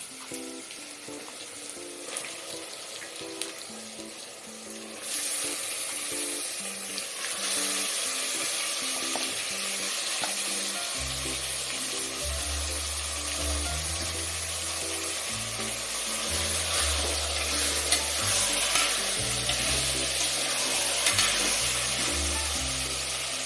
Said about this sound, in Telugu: నెక్స్ట్ ఇప్పుడు వాష్ చేసి పెట్టుకున్న మటన్ వేసుకుందాం అన్నమాట.